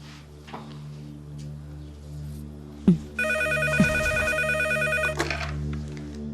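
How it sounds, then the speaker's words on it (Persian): A mobile phone rings loudly in a domestic drama scene, a repeating electronic ringtone that starts mid-clip and keeps going, with a couple of sharp knocks just before it and a low background hum. "موبایل جواب بده."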